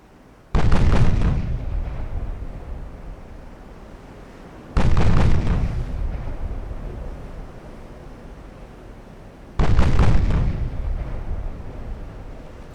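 Triple naval gun turrets firing in Ultimate Admiral Dreadnoughts, three heavy booming salvos a few seconds apart, each with a loud sharp onset and long rumbling decay, no talking.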